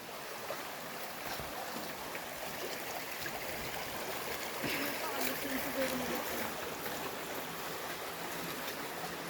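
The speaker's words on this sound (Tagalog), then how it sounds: "Malakas yung tubig B doon oh." Strong river current at a natural spring with swimming spots, a steady broadband rush of flowing water running throughout, with people talking faintly under it.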